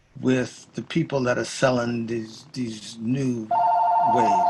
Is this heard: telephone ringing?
yes